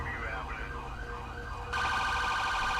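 Ambulance siren in the game GTA V with the LSPDFR police mod, wailing at steady volume with a sharper, louder tone setting in near the end, under faint background noise.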